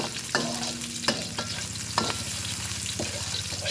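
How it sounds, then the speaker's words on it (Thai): Garlic and chili sizzle in hot oil in a pan as they are stir-fried for an eggplant dish. A spatula scrapes in about four distinct strokes over a continuous close sizzle, and no one speaks. "ใส่กระเทียมกับพริกลงไปเลยค่ะ นี่นะคะ ผัดเขาให้หอมค่ะ"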